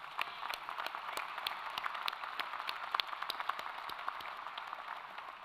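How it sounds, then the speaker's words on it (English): Applause from a large audience at a university graduation convocation ceremony in an arena, a steady dense wash of many hands clapping continuously without speech. "So let's give them a round of applause."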